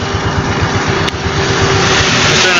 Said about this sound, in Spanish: estoy en la moto.